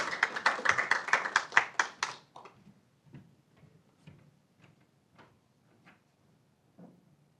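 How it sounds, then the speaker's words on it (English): Round of applause at a city council meeting: a short burst of scattered hand claps from a small group, quickly fading into a few sparse, faint claps. "let's give everybody a round of applause for that"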